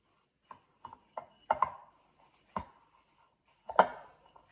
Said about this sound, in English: I've put my melted butter in and I'm just going to stir that all in together